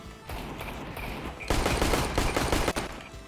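Rapid automatic gunfire in a video game, a sustained fusillade that turns louder and denser halfway through, with a brief break near the end before the firing resumes.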